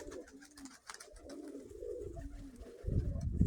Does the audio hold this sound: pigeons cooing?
yes